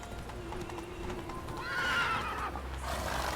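Roach, the horse in The Witcher 3, gives a whinny that rises midway over steady galloping hoofbeats, loud and close, with faint voice-like sound beneath.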